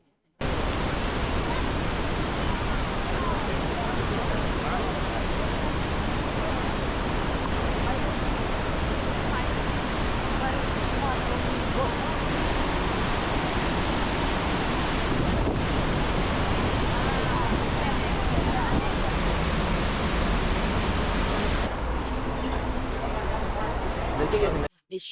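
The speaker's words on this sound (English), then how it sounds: "I can feel the water from the waterfall." Iguazu Falls roars on a cold, sunny day as a dense, unbroken wall of rushing water close by, steady throughout with some wind noise on the microphone.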